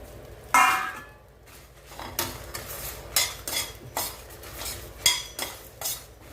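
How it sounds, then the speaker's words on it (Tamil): Chillies, curry leaves and rock salt dry-roasting in a pan, heard as a series of metallic scrapes and clinks of a spoon against the pan, irregular and fairly close, with no talking. "மிளகாய், கருவேப்பிலை, உப்பு, கல்லுப்பு சேர்த்து வறுத்துக்கோங்க."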